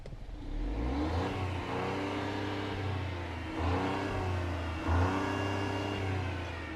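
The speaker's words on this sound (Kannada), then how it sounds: "ಇದರಲ್ಲಿ ಸೌಂಡ್ ಕೇಳೋಣ ಬನ್ನಿ ರೈವ್ ಮಾಡ್ತೀನಿ" A three-cylinder turbocharged petrol car engine revs from inside the car, a steady droning hum that swells in two stronger revs before settling, close and continuous with no talking.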